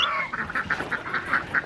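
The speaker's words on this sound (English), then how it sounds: "Chickens and ducks are all behind me." Farm ducks kept near chickens quack close by in a quick, regular series of about eight sharp calls, with no voices present.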